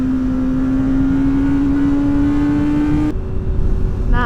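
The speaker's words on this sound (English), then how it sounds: "Oh, the downshift!" A Honda CBR1000RR SP2 Fireblade motorcycle engine holds a steady high rev, then drops sharply as it downshifts, settling into a lower, rougher drone with brief rising blips near the end.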